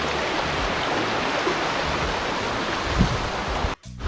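A strong stream current rushes with a steady, broadband roar of flowing water, loud and close, with a brief dropout near the end.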